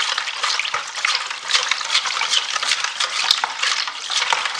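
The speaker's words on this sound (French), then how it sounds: "Et je vais mélanger le tout. On va mélanger bien." A filling being stirred and mixed in a bowl for Turkish bourek, giving a steady wet, slushy scraping that continues close and unbroken with no talk.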